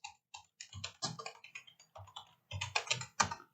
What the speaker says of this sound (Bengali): ব্রাউজারে এসে উপরে সার্চ বারে এসে লিখবো গুগল ট্রান্সলেট।